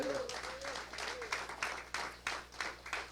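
Congregation applauding during a Spanish-language church service, rhythmic clapping in distinct pulses, moderately faint and roomy, with a voice at the start.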